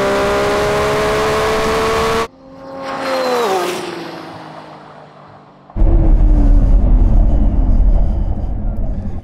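A Lamborghini Revuelto and a Ferrari 296 or SF90 accelerate hard in a drag race: a loud, rising engine howl cuts off, a fainter engine whine sweeps down, then a close, heavy rumbling roar takes over.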